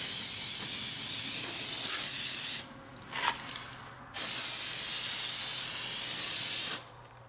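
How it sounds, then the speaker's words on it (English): Brake cleaner sprayed from an aerosol can onto a new front brake rotor for a BMW E38, stripping off its preservative coating. Two long, loud, close hissing bursts come with a short pause between them. "Just hose it down with your brake cleaner."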